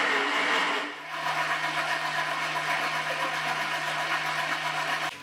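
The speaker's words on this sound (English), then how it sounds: "And then we're going to pop it into our KitchenAid. And we're going to mix it on high for about 2 to 3 minutes." KitchenAid stand mixer whirring on high speed while mixing cookie cake batter, a loud steady motor whine that kicks in after a brief dip and runs evenly until it stops abruptly.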